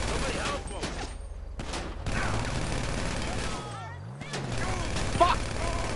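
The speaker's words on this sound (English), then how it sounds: "I'm just firing missiles at NPCs" Missiles fired at NPCs in GTA Online, a dense run of loud game explosions and rapid gunfire with rumbling booms, close and continuous.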